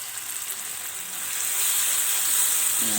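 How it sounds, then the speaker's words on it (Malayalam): Ginger garlic paste hisses in a hot pan while cooking soya chunks Manchurian, a steady close sizzle that swells louder partway through and then holds. "അരച്ച് വെച്ചിരിക്കുന്ന ഇഞ്ചി വെളുത്തുള്ളി പേസ്റ്റ് ആഡ് ചെയ്ത് കൊടുക്കാം."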